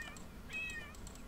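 Lynx cub in the video game Paws gives a short, faint meow against a quiet background hiss.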